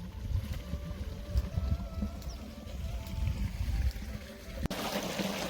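Irrigation water flows and gurgles into furrows of an ajwain field, a soft low trickling wash in open air with light wind, steady throughout with a brief bump near the end.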